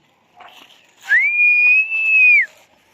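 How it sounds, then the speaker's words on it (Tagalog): One person whistles a single long, steady, clear note outdoors while flying a kite, calling the wind. A faint rustle comes just before the whistle, and no one talks. "Sipol-sipol tayo, mga kamatik, para humangin naman."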